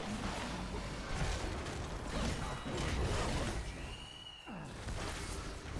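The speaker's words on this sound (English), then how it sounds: "Oh, the chalkboard sound." A shrill, chalkboard-like scraping screech from the Heroes of the Storm video game rises briefly out of a dense mix of game noise, creaks and mechanical clatter.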